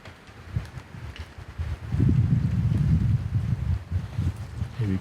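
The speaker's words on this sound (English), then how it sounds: "It is super windy and then icy." Strong wind gusting outdoors in an ice-covered forest, low buffeting rumble against the microphone swelling after a couple of seconds and holding, fairly loud, no talking.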